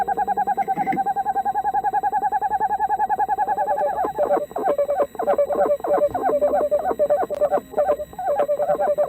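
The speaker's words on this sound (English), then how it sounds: "for the casual onlooker, owls can seem downright alien. For instance, listen to this." An owl gives a steady run of hollow, tonal hoots, close and clear, the calls coming in quick repeated pulses against quiet background noise, with no talking.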